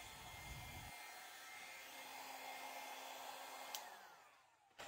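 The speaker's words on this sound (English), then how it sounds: "I'm going to come down with the blow dryer aimed sideways and blow that black paint in" A blow dryer aimed sideways blows wet acrylic paint across a fluid-art canvas, giving a steady, close, whooshing airflow that holds throughout, then briefly dips as the dryer shifts near the end.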